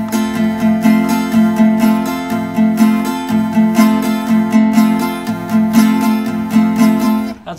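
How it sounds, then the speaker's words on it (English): An acoustic guitar plays a steady rhythmic strumming pattern for a song, with lighter up-strums on only the top strings. The strums are loud and close, with a continuous chordal ring and no voice. "What I'm doing here is on the up strum, I'm only hitting like about the first one or two strings."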